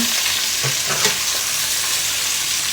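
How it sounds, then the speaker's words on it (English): Chicken thighs seasoned with garlic powder browning in a hot pan, giving a dense, loud, continuous sizzle close up with a few faint pops and no voices. "All I'm doing is browning them lightly on each side, partially cook them"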